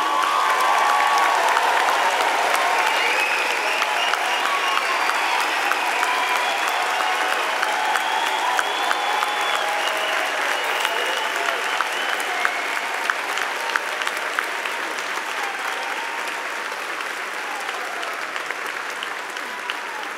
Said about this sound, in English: give yourself a nice hand of applause